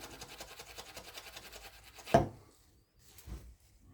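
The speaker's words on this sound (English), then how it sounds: "mouthpiece brush and clean it out with that real good on both sides" Stiff bristles scrub back and forth through a brass instrument mouthpiece in a quick, steady rhythm, followed by a sharp knock and then a softer bump after a brief pause.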